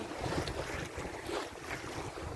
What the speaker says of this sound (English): And now I am sailing into Portsmouth.